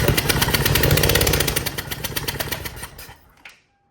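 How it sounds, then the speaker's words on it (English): A high-mileage Lexus engine cranks over loud and close, a fast rhythmic churning pulse that runs for about three seconds and then cuts off. One sharp pop sounds just after the cranking stops. "I'm gonna crank it up and hopefully it's got enough compression to just shoot it out"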